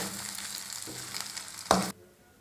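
Lemon rice mixed with jamun fruit is stirred and scraped in a hot pan, with a steady soft sizzle and a sharper clatter of the spoon near the end before the sound stops.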